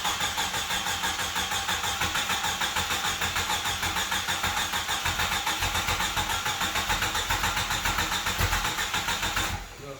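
Jeep Wrangler YJ engine running after sitting unused for years, a loud, close, steady idle with a rhythmic pulsing chug that holds for about ten seconds, then cuts off abruptly at the end.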